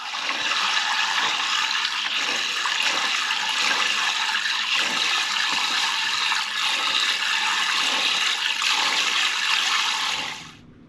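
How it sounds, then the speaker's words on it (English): Green manzanita berries being washed under running water, a steady rushing stream like a tap running hard into a bowl, loud and continuous for about ten seconds before cutting off. "And then I'm going to wash them really good,"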